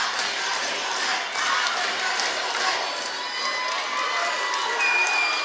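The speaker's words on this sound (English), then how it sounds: "Crowd is trying to do everything they can to get this thing back for the Eagles" Crowd at a high school conference volleyball match between FCHS and Cosby cheers steadily for the Eagles, a dense, continuous roar of shouts and yells with no clear breaks.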